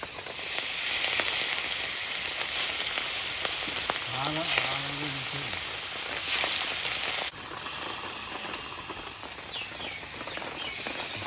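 Fish frying in hot oil in a wok gives a loud, continuous sizzling hiss throughout, with a brief chirping sound partway through and no clear speech.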